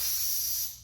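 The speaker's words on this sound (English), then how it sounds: "I'll feed it some carb cleaner while it's running" A steady aerosol hiss of carb cleaner sprays into a running generator's intake for under a second, close and continuous, then tapers off.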